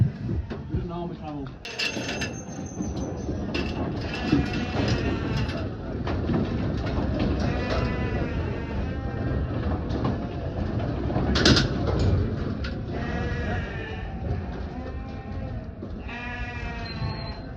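Several sheep bleat repeatedly at close range inside a trailer over a rumbling background, with calls overlapping throughout and a voice speaking at times.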